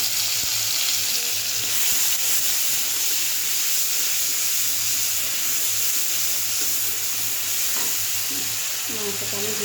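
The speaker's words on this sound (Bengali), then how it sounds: "এবারে এই যে আদা রসুনের পেস্ট অল্পই দেবো, বেশি দেবো না।" Ginger garlic paste frying in hot oil gives a steady, loud broadband sizzle with soft stirring scrapes throughout, and no voices.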